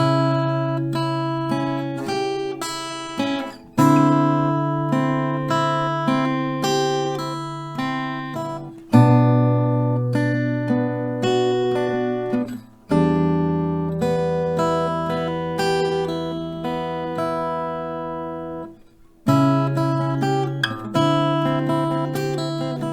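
Acoustic guitar plays a full melody slowly and clearly, a steady run of plucked notes and ringing chords with brief pauses between phrases, alone without speech.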